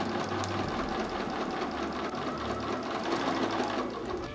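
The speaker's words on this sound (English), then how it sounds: "Now that we have stitched our stitch lines" A sewing machine runs steadily, stitching the front and back of a fabric Christmas mini church building together, its motor whirring continuously at close range with no talk.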